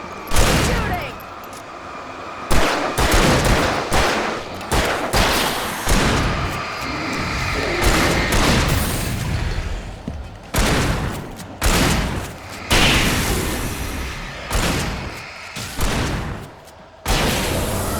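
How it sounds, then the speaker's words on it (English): Rapid bursts of gunfire crackle through an ambush in Alan Wake Remastered on PS5, loud repeated volleys with booming impacts over a dense, noisy game soundscape, with voices calling out between shots. "Shooting! Right there!"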